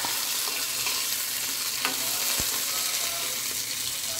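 Coconut pieces frying in a pan for chutney, a continuous moderate sizzle with a few faint clicks and a single sharp tap of a utensil, no talking.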